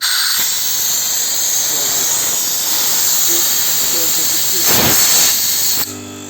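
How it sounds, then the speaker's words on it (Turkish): Compressed air rushes out of a small silent-compressor tank in a loud, steady hiss that swells briefly near the end before cutting off abruptly. "Şu anda havasını boşaltıyorum."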